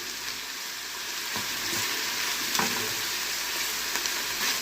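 Spiced minced meat, seasoned with black pepper, salt, paprika, seven spices and nutmeg, sizzles steadily in a frying pan as it is stirred, with soft scraping bursts over a constant close frying hiss.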